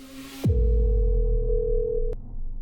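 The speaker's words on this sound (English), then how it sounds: "They decided to call Marco." A telephone call tone placed by police to a suspect: a steady ringback-style tone holds for about two seconds after a loud low thump, then cuts off sharply, with no voices.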